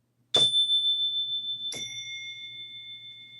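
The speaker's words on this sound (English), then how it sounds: "listen to the bell" Two clear bell dings about a second and a half apart, each struck tone ringing on and slowly decaying in an otherwise quiet space.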